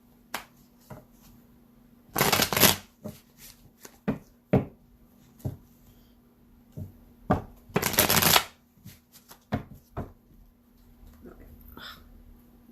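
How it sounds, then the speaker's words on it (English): Cards being shuffled up close in two loud riffling bursts, with softer taps and handling sounds between them; a quiet hum runs underneath. "All right, let me shuffle them."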